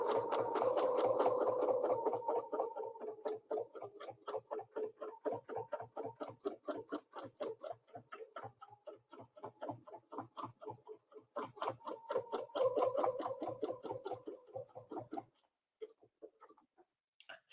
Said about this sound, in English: And now we're going to go double stitch on the bottom.